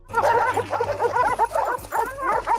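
Dogs barking and whimpering in a tense scene from Quentin Tarantino's Django film, a dense run of overlapping yips and barks held close and loud for nearly three seconds over a low rumble.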